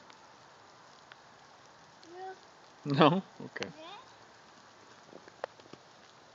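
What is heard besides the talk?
rain falling in a backyard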